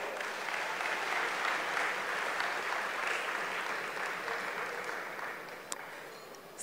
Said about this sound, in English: Ladies and gentlemen, please give another round of applause to Michael Kilgore.